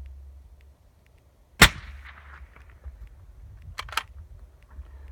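A single suppressed 6.5 Creedmoor rifle shot with a 7-inch suppressor gives a sharp, loud report followed by a short decaying tail, then quiet outdoor background with a couple of faint clicks.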